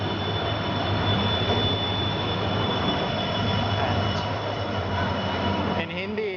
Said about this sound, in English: So here is the engine.